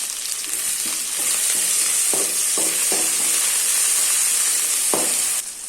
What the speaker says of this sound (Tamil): அந்தளவுக்கு மல்லித்தலை அதே அளவுக்கு புதினா தலை இதையும் வதக்கிடலாம்